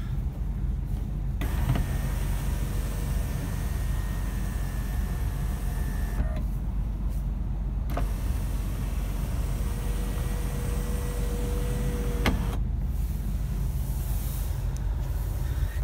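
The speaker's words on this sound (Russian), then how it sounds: "люк может открываться полностью" The electric sunroof of a 2001 Nissan Maxima A33 3.0 AT slides open with a faint steady motor whine over a hissy cabin background, stopping and restarting in a few separate runs with brief clicks between them.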